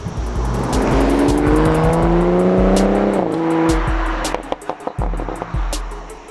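A 2020 Toyota Supra GR 3.0 Premium accelerates hard, its engine rising through revs with distinct upshifts, loud and close from inside, ending in a rougher burbling as the pull eases off.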